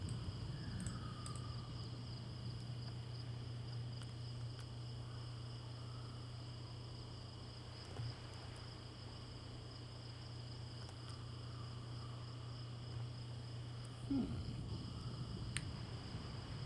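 Night crickets in World of Warcraft's Draenei starter area keep up a quiet, unbroken high chirring over a low ambient drone, with a couple of soft clicks.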